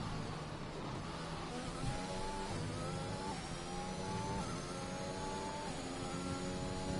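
A Ferrari race car in a racing video game drives along, its engine droning steadily with rising and falling harmonic tones as it shifts and slows toward the pit lane, loud and continuous with no talking.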